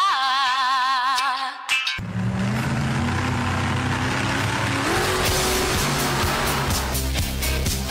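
A radio jingle for a 4x4 off-road show mixes race car engines revving with squealing, skidding tires, loud and continuous after a short musical opening, with engine pitch climbing and falling throughout.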